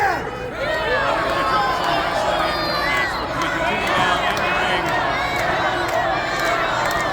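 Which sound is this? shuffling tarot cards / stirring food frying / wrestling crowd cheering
wrestling crowd cheering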